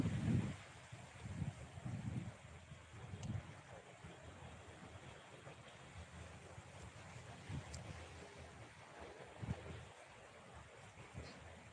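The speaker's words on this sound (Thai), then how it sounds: "ลมแรงมาก" Strong wind buffets the microphone at a seaside beach at night, a steady roar with gusty low rumbles and faint surf underneath, no voices.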